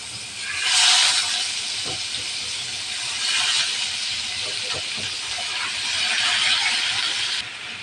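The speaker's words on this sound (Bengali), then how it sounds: "তেল গরম হয়ে গেছে, দিয়ে দেবো মাছ।" Taki fish sizzle and hiss as they go into hot mustard oil. The frying surges loudly in waves of broad crackling spatter for several seconds, without speech.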